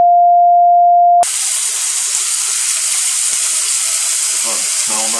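Food sizzles and fries in a hot pan with a steady, bright hiss that starts abruptly after a steady electronic tone, fairly loud and close, with faint speech near the end.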